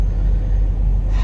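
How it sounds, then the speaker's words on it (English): A semi truck's diesel engine rumbles steadily at idle just after a jump start, low, loud and continuous with no voices. "Well, finally have the truck on."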